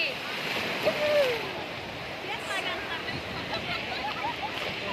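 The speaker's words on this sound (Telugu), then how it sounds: "పెద్ద పెద్ద అలలకి నేనే వెళ్ళిపోతున్నానండి" Ocean surf at Machilipatnam beach, a steady broad wash of breaking waves running through the whole stretch at moderate level, with a brief louder swell early on and faint voices in the background.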